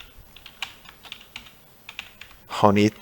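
Quick bursts of typing on a computer keyboard while entering text in a text box, light clicky keystrokes at close range, with a short spoken remark near the end.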